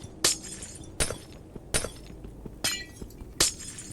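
Glass blocks of a small glass house shatter one by one in a block-building video game. Four crisp, bright breaking crashes come at a steady pace about a second apart, with no talk.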